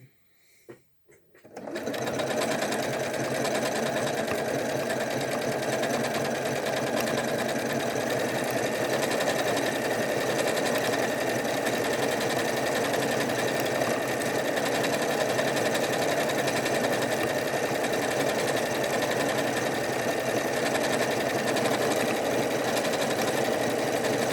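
A Janome Skyline S7 sewing machine stitches lettering onto stabilizer. It starts up after a brief quiet moment, then holds a loud, steady, rapid whirring close by for over twenty seconds.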